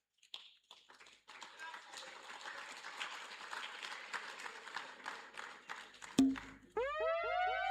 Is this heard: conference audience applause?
yes